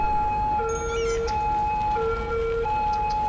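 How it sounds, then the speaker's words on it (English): Two-tone wailing siren of a police car in the city-building game Cities: Skylines, alternating high and low tones in a steady even cycle, clear and prominent with no talking. "Oh, police car."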